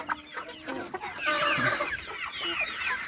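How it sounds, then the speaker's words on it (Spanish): A large rooster clucks in a short, busy burst of throaty calls and squawks, close and moderately loud with rustling farmyard noise around it. "el gallo es grande."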